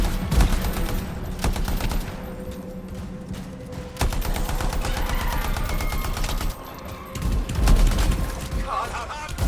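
Wrist rockets fire in the video game Anthem as a javelin pilot fights, a dense run of rapid thumping launches and blasts layered over game music and ambience, fairly loud throughout.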